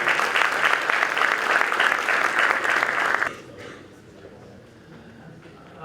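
A room of guests at a tourism pitching event applauds steadily for about three seconds, then the clapping stops abruptly and leaves quiet room tone.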